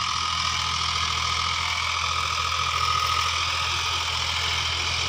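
A Sonalika DI 35 tractor, a 35 HP model, runs at a steady idle close by, its engine throbbing evenly with a constant mechanical drone and no pauses or talking.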